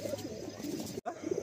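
A male pigeon in a loft coos in soft, low, repeated bursts close by, with a brief break partway through.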